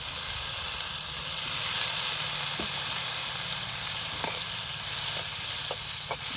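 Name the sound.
spice paste (masala) frying in a pan for aloo dom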